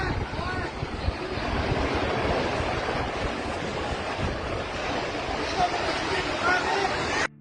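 A whirlwind tearing through Bandung and Sumedang, Indonesia, heard as steady loud roaring, gusting wind that buffets the microphone throughout, with faint voices mixed in underneath.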